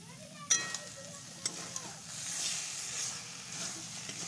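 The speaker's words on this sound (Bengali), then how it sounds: "এবার আমি নাড়াচাড়া করে নেব।" A thick, sticky curry of kalai (urad) dal with ground cumin being stirred in a pan, a soft hiss under a few sharp utensil knocks against the pot, fairly quiet and close.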